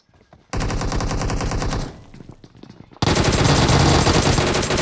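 DP-28 machine gun fire in BGMI, with two long, loud bursts of rapid automatic shots separated by a short quieter gap.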